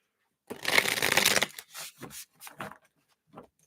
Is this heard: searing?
no